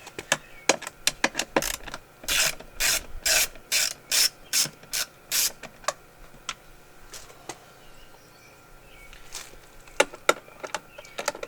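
A ratcheting screwdriver clicks while screws come out of the HVAC box of a 2006 Jeep Wrangler TJ, a fast burst of close rhythmic clicks and then scattered faint ticks and rattles.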